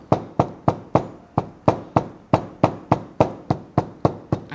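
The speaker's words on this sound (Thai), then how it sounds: "ใช้ค้อนทุบด้านนี้อีกรอบหนึ่งนะคะ" Repeated hammer blows pound a glued seam on a cap's side panel at a steady, even rhythm, about a dozen sharp close thuds with short decays, no talking.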